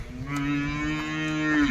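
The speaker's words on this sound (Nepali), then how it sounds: "यहाँ हुनुहुन्छ गाई गोरुहरू" Cows and oxen give one long, loud, close moo that holds steady for well over a second before tailing off, with no voices around it.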